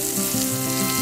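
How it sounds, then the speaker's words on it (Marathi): Roasted brinjals drop into hot tempering oil with curry leaves for a stuffed masala vangi curry, giving a close, loud, continuous sizzle and crackle. "या फोडणीमध्ये आपल्याला हे सगळी वांगी जी भाजून घेतलेली आहे ती सोडायची आहे"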